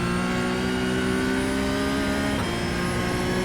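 A Porsche 992 GT3 Cup race car in the iRacing sim held at full throttle, a loud sustained high-revving engine drone with steady harmonics, one brief dip in tone near the end, and no voices.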